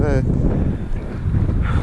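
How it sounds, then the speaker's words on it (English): Strong wind buffets the microphone outdoors on a winter walk, a steady, loud low rumble with gusting swells that masks a person speaking. "You're not going to hear me because of the wind."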